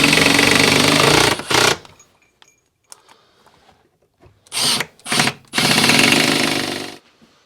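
Lag screws are driven into a wall ledger by a loud, close power driver: a long whirring burst, a pause, then two short bursts and a longer run that winds down, with no talking.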